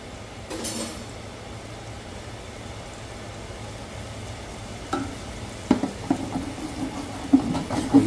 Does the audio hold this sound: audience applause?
no